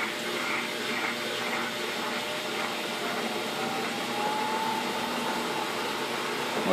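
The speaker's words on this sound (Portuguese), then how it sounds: "E vai começar a centrifugação agora," A Mueller Special washing machine spins up its basket for a spin cycle with an unbalanced load on one side, giving a steady, fairly loud whirring motor drone throughout.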